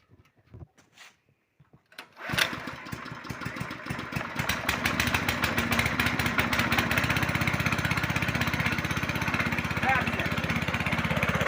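A homemade petrol generator's engine is started: a few faint knocks and clunks, then the motor catches and settles into a loud, steady, close running drone that continues to the end.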